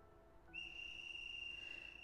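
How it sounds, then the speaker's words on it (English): A whistle blown urgently from some distance in a Hakuoki game scene: a single sustained, shrill tone starts suddenly and holds steadily over a faint ambient background, with no voices. "we heard the frantic tweeting of a whistle from some distance away"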